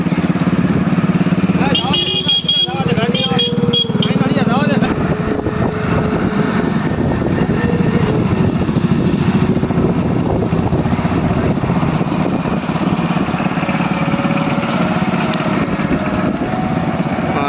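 Motorcycle engine running steadily while the bike follows young runners in a village race, a loud continuous drone with wind buffeting the microphone, and a voice talking over it.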